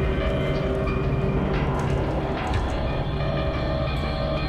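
Freight train rolling past in the first-person shooter F.E.A.R. 2, a steady loud rumble of wagons with a droning hum and faint rhythmic clatter throughout, no voices.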